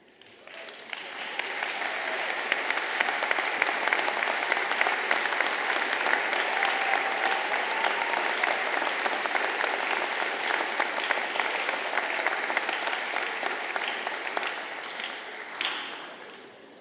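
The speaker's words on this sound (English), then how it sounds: "I would like to ask all UNI alumni in the audience to stand and applaud the newest members of our UNI family." Sustained applause from a large audience at a university spring commencement ceremony, swelling in, holding as a loud dense wash of clapping for many seconds, then fading out near the end.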